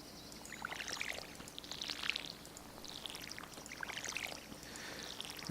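Crops in the farming video game Stardew Valley are watered with a can, giving soft repeated pouring splashes roughly once a second over a quiet, even background.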